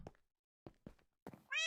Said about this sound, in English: you get to listen to meowing on every street